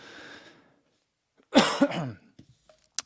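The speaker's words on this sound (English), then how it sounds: "still got some coughing from that head cold" A single harsh, close cough from a head cold bursts out after a moment of quiet, followed by a short breath and a faint click.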